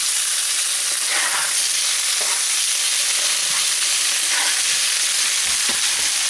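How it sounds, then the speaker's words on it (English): Fish browning in a pan for a seafood brodetto sizzles in a steady, dense hiss of frying oil, with soft stirring or scraping touches now and then; close and continuous, no talking. "We're going to brown the fish."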